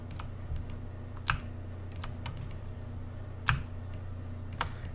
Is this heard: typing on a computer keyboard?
yes